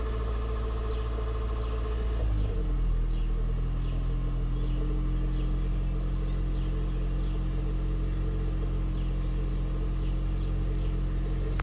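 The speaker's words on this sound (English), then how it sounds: "Is it normal for my fucking car to sound like this?" A car engine runs continuously with an unusual noise, a loud, steady low rumble with a whining hum, shifting in pitch once early on and then holding steady, with no voices.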